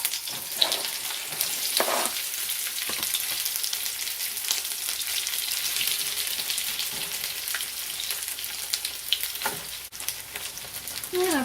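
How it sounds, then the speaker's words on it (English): Potatoes frying in hot canola oil, a loud, steady, dense sizzle that stays close and even throughout, with a few faint utensil knocks and no talking. "Now you're going to put the potatoes in the hot oil."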